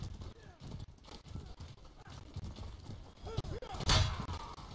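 Horse hooves clip-clop in the medieval combat game Mordhau amid battle noise, with a quick run of hoofbeats and thuds and a louder crash near the end, while people talk over it.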